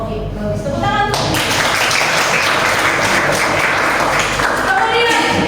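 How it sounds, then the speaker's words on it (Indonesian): A classroom bursts into applause, a dense, steady clapping from many students that runs loud for several seconds after a teacher's voice, then fades as talking resumes. "Tepuk tangan tuh"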